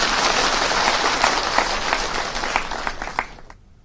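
A large crowd at a political gathering claps loudly in a dense, sustained burst of applause that thins and stops abruptly at the end.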